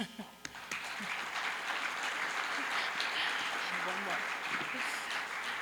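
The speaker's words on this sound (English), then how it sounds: "I think really they deserve a round of applause" Conference audience at an opening ceremony breaking into sustained applause, a dense, even patter of many hands that stays fairly quiet and distant, with some murmuring voices underneath.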